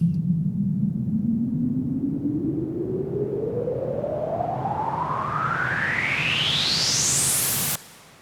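A steady hiss of filtered noise sweeps smoothly upward in pitch for about eight seconds, then cuts off abruptly into near silence.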